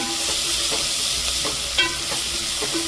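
Ingredients sizzle steadily in a hot pan while a spoon scrapes and stirs at a loose, repeated rhythm, close and moderately loud with no talking.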